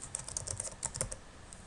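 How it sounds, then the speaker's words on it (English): Computer keyboard keys tapped rapidly at close range while a password is typed, a dense run of crisp clicks with no voices. "I can now type in my password, which is password on this."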